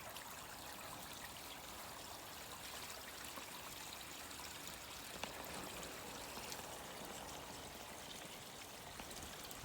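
Water from an external pond filter flows back into a garden pond, a steady, faint, continuous rushing trickle with no voices over it.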